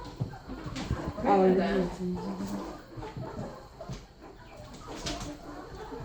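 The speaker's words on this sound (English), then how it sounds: "How many roosters are here?" Rescued chickens and roosters in North Camden, New Jersey, cluck and call in a few scattered bursts, with people talking nearby.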